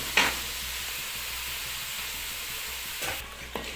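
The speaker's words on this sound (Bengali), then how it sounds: "মশলাটাকে ভালোভাবে একটু নেড়ে নিতে হবে" Spice masala for a chicken dish fries in a pan with a soft continuous sizzle, broken by a couple of brief scraping stirs near the start and end, heard at fairly low level with no talking.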